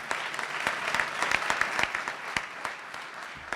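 Audience applause at a Louisville community announcement event, a steady patter of many hands clapping at moderate distance, fairly quiet and uninterrupted.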